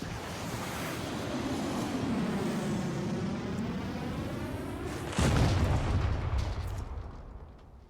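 A makeshift rocket in the survival game Raft blows up after explosive powder is thrown in, a sudden deep boom bursting over steady ocean wind and surf, then fading back into the rolling wash of the sea.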